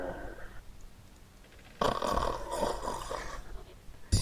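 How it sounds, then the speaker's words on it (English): A trapped chest in the video game Diablo releases gas with a harsh, noisy hiss and rumble that bursts in loudly after a quiet stretch and continues for a couple of seconds. "The chest just like farted on me."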